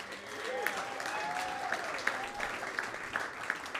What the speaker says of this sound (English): Everyone, please clap for Carter Doherty.